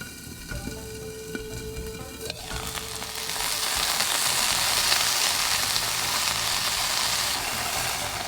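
String beans and red bell peppers brown in a pan; a steady sizzle rises sharply into a louder, hissing fry as water hits the hot pan, staying constant and close throughout.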